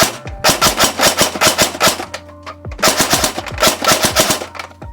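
A Perun P90 airsoft gun fitted with a MOSFET fires rapid bursts, two loud close strings of sharp rattling shots separated by a brief pause.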